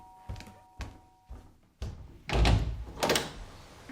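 Door sounds in a children's radio play: several soft knocks or thunks at steady intervals, then a louder scrape and clunk as a door is pulled open, close and clear with no voices.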